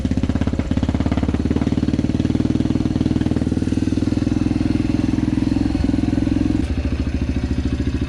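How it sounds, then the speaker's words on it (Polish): A Yamaha TTR 125L dirt bike with an FMF PowerCore 4 exhaust idles close by, a steady, rapid, bassy thumping putter that holds even for several seconds and then drops slightly, with no talk. "ten właśnie wydech FMF PowerCore 4 właśnie daje ten taki fajny basowy dźwięk"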